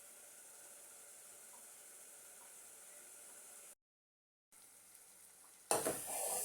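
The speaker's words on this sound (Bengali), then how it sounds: "মশলাগুলো একটু ভালো করে কষিয়ে নেব।" Spices frying and being stirred in a pan, a faint steady hiss that cuts out briefly, then returns before a louder burst of sizzling and scraping near the end.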